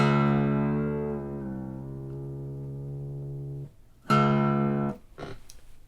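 Acoustic guitar string plucked during tuning: one long ringing note slowly decaying for several seconds, then a second sharper pluck that cuts off quickly, followed by a few faint brushes of the strings.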